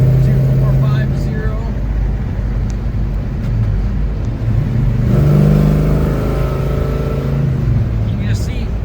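A 1970 Chevelle's 454 big-block engine roars as it pulls hard through a 5-speed manual's gears, its pitch climbing, dropping at each shift, then climbing again, loud and close.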